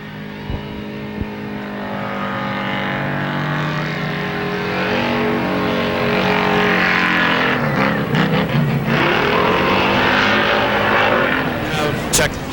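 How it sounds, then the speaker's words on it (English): Dirt modified race car spinning donuts on a dirt track backstretch, engine revving steadily and rising in pitch, loud and sustained, with an announcer talking over it. "Richie going to celebrate in style with a couple of donuts on the backstretch."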